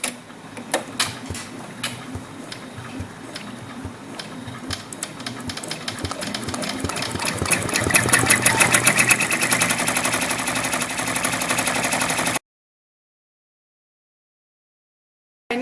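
A Brother PR650 embroidery machine stitches a design onto a baby blanket, a loud, fast mechanical chatter that climbs into a dense, steady needle hammering, close up and without voices, then cuts off abruptly.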